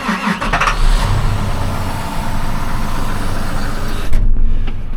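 A farm vehicle engine cranks and catches, then settles into a loud, steady rumbling idle close by, with a brief surge near the end.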